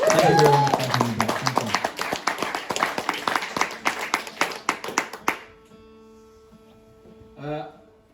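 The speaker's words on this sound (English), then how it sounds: "can we have a big round of applause for the musician and all the chaps working behind the scenes here?" Audience applause for a musician and the backstage crew at a Leicester gig, dense clapping from the start that thins out and stops just past the five-second mark, followed by near silence and a brief murmur.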